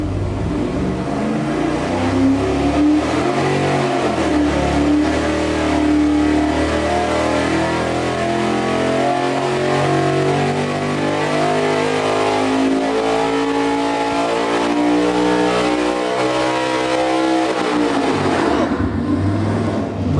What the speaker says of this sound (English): this is gonna be our pull with our new smaller blower pulley and just a mechanical checkup, making sure that that engine's happy